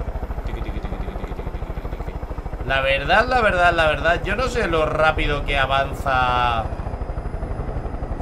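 A helicopter in Far Cry 5 drones steadily with a close rotor chop throughout, while someone talks over it in Spanish.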